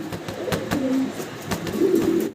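A pigeon cooing close by, two low throaty coos over soft rustling and light tapping noises, no talk.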